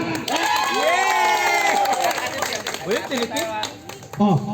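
A crowd at a New Year 2023 family gathering claps and cheers for the children, with shrieks and excited shouting mixed in, loud and close throughout, while voices call out over the noise.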